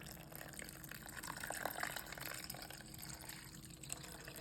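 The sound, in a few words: pouring boiling water into Jello mix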